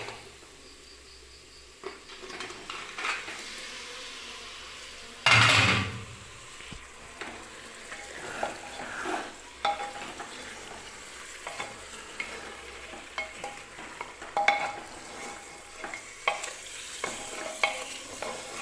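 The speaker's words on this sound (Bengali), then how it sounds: "মাংসটা এবার ঢেলে দেবো" Meat hits a hot frying pan with a sudden loud sizzling rush, then settles into quieter frying broken by scraping and clinking as it is stirred, close by and free of talk, on an Eid morning.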